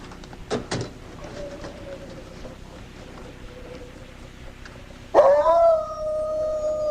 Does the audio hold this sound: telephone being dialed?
no